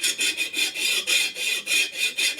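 Rhythmic rasping strokes of a metal file take burrs off a part for a Harley flathead motor, about eight quick even back-and-forth passes, close and moderately quiet with no talking.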